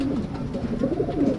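Racing pigeons in a loft coo in soft, rolling low-pitched bursts, close and moderately loud, with no talk.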